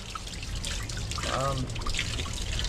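Water runs steadily from a tap in a continuous trickling stream, fairly close and moderately loud, with a brief voice briefly heard in the middle.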